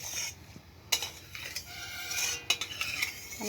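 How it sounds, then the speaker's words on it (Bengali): Dried red chillies and torn bay leaves frying in a pan, heard as quiet clinks and scrapes of a utensil stirring against metal over a faint background, with a few sharper knocks. "শুকনো লঙ্কাটা একটু কড়া করে ভাজবো।"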